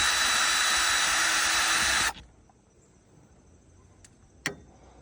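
A power drill runs loud and steady for about two seconds during a rain-leak repair on a Dodge Ram truck, then cuts off abruptly, leaving quiet with one sharp click near the end.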